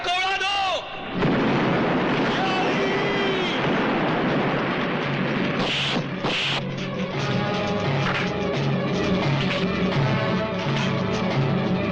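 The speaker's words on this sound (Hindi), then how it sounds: "फाटक को उड़ा दो।" A gate is blown up in an action scene from a 1982 Hindi film, a sustained roar of blasts and booming fire rumbling for seconds with sharp bursts midway and shouting voices woven through.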